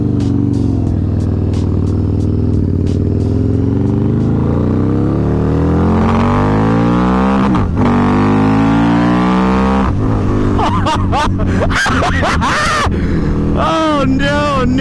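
Harley-Davidson V-Rod motorcycle ridden on the road, its engine note rising and falling through revs and gear changes at close range, with a voice breaking in over the engine toward the end.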